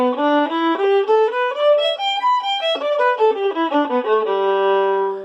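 Violin bowed through a slow improvised run of scale notes on open and stopped strings, each tone clear and sustained, ending on a held low note; solo and close with no voices.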